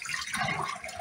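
Water drains down a sink drain after boiling water is poured in, a brief close gurgling rush of liquid lasting about a second.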